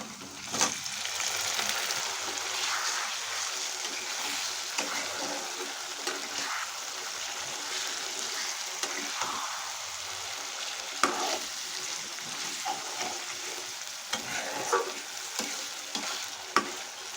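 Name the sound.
marinated chicken frying and stirring in pan for biryani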